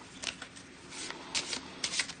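A deck of cards is given a quick shuffle at a tabletop game session, with several soft, crisp riffling bursts in a quiet room and no talk.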